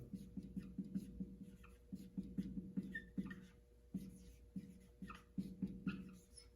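A marker drawing on a whiteboard, squeaking in short rhythmic strokes close up, with brief pauses between strokes.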